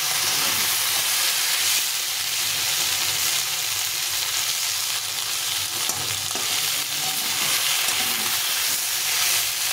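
Fish curry with tomato and bitter gourd is stirred and fried down in a pan, producing a continuous close sizzle and hiss with occasional scraping from the stirring and no speech.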